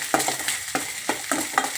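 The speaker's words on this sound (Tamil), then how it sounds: "பூண்டு சேர்த்து நல்லா வதக்கணுங்க" Garlic sautéing in melted butter in a pan, sizzling steadily with a spoon scraping and stirring in roughly four evenly spaced strokes, close and alone for vegetable soup.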